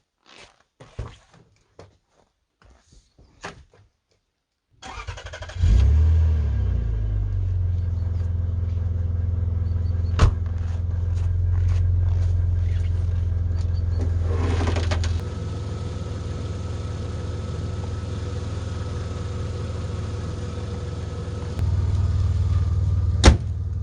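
A car engine cranking and catching in severe frost after some faint clicks and rustles, then idling with a loud, steady low rumble, the pitch of the idle shifting partway through and again near the end.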